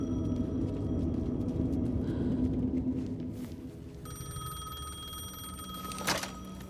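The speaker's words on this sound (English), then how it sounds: "The payphone was ringing." Payphone ringing in the Alan Wake 2 video game: a bright electronic ring starts partway through over a low ambient rumble, steady and moderately loud, with a brief sharp knock near the end.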